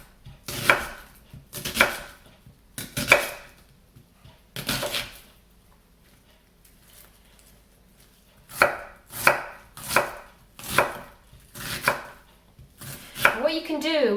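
A knife chops through a large onion on a board in a kitchen, a dozen or so crisp, sharp knocks in uneven bursts, close and clear with pauses between runs.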